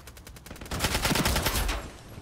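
An SG550 rifle fires a rapid automatic burst in the Ironsight shooter game, sharp repeated cracks building in loudness and heavy low punch, close and loud with no talk over it.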